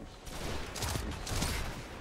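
Gunfire in the video game Destiny 2, a quick volley of several sharp shots in close succession over steady game background noise, fairly loud and near.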